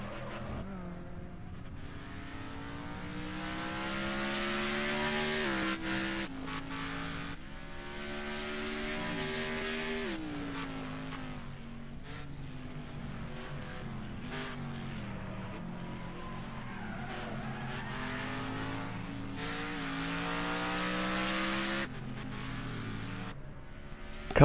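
A race car cornering with a bent rim and a wobbling passenger-side tire, its engine droning steadily at moderate level with pitch that rises and falls through gear changes and throttle lifts over the lap.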